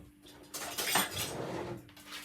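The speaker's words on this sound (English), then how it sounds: "I'm going to grate the ginger inside of it" Fresh ginger scraped against a metal grater, a close rasping swish that builds through the middle and trails off, with light clinks of the utensil and no talking.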